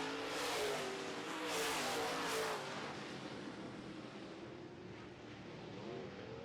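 An MB Custom modified race car with a Miller Race engine roars around a race track during a modifieds heat, the loud engine droning steadily with surges and slightly fading toward the end, other cars blending in.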